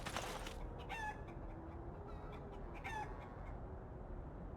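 A chicken in Dragon Age Origins clucks and squawks in short bursts, a few sharp calls spread out over a steady low background hum, moderately close.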